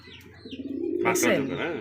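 A white racer pigeon gives a low, throaty coo close by, a brief warbling call rising out of quiet with a voice murmuring nearby.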